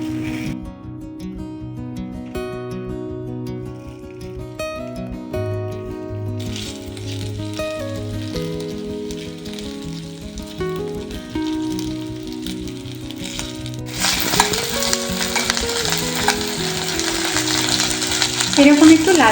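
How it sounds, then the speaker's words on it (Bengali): Chicken pieces shallow-fry in a pan with a soft sizzle that stays mostly under loud background music, then swells into a denser, crackling hiss over the last few seconds. "আচ্ছা, 15 মিনিট হয়ে গেছে, এবারে আমি ভেজে নেব।"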